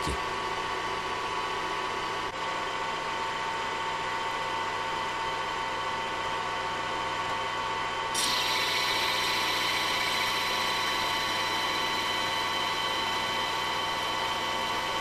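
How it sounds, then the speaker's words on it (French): Parallel metal lathe taking a cutting pass on automatic feed with an external turning tool, a loud steady machine drone and whine throughout, shifting slightly in tone about halfway through. "on met le tambour à 0, on prend une première passe, on embraye l'automatique"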